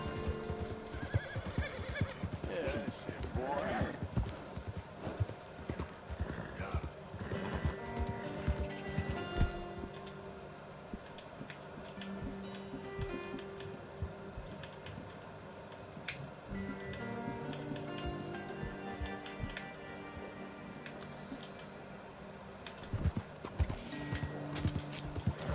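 Horse hooves clip-clop steadily while a horse neighs and whinnies a few times in the video game Red Dead Redemption, with a continuous background of game effects and ambience.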